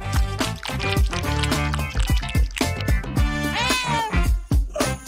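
Several pet cats meowing in quick succession, loud and close, with overlapping high calls and a few drawn-out yowls.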